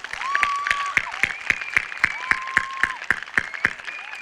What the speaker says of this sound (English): Can I ask you to give a round of applause to all our staff on campus?